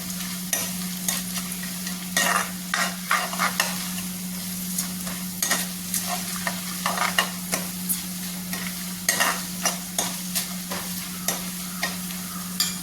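A spoon stirs and scrapes through onion and beetroot pickle in a pan over a low flame, repeated clinking strokes over a soft steady sizzle, close and without talk.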